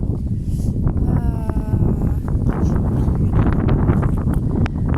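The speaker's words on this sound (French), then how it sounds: "il y a beaucoup de vent là tout d'un coup" Strong gusts of wind buffet outdoors in a young edible forest garden, a loud continuous roar and rustle across the whole stretch.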